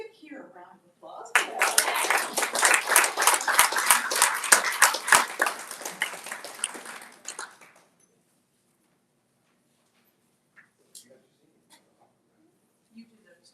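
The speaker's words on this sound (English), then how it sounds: "Let's give Keir a round of applause." A church congregation applauds the Reverend Keir Walton after a service prayer: dense, steady clapping swells for about six seconds, then stops abruptly, leaving near silence with a few faint stray sounds.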